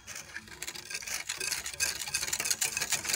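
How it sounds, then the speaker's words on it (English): Whisking egg yolk and sugar with boiled milk in a bowl, a continuous brisk scratchy swishing that builds slightly, close up with no voices. "So I whisk."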